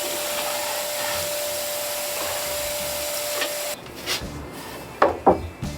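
Sanding varnish off a wooden table aboard a sailboat: a steady whirring power-sander drone that stops partway, followed by a few short scraping rubs.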